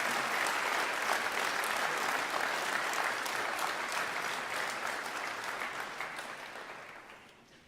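Dense applause from a crowd at a motorsport team's car launch night, a steady wash of clapping that holds strong and then slowly fades toward the end.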